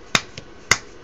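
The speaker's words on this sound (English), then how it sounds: "is keep snapping my fingers" Finger snaps aimed at a microphone on an ESP32 circuit: two crisp, close snaps with a fainter tick between them, over quiet room hiss.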